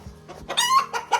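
A hen clucks several times in a quick, close burst of short, loud calls, with a low background hum underneath.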